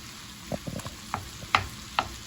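Ground beef being fried with onions and minced garlic in a pan, heard as faint sizzling with a few sharp scraping and stirring clicks spaced through the short clip, no talking.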